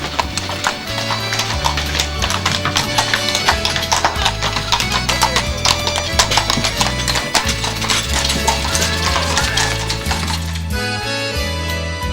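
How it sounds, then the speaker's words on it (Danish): A horse-drawn carriage gives town tours through Den Gamle By in Aarhus. Its hooves clip-clop in a steady rhythm beneath loud, continuous music that fills the whole clip. "De kan nemlig vælge at blive kørt rundt i hele byen med hestevogn."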